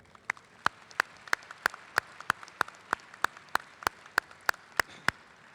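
At a military change of command ceremony, faint, evenly spaced claps ring out at a steady slow rhythm, about three per second, sounding sparse and distant rather than like a full crowd.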